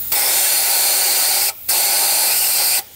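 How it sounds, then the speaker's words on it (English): Compressed air blasting through a grain drill seed tube, two long loud hissing bursts separated by a brief pause, close and alone with no voices. "Compressed air works very well"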